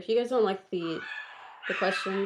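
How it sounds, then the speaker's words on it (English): Several dogs bark and yelp in the background while a person talks over them in a home setting. "You can probably hear my dogs in the background barking."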